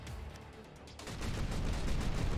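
Ship cannons firing in the video game Final Theory: a quieter rumbling stretch, then a dense, continuous barrage of booming, crackling shots that starts about a second in and keeps going, with no talk.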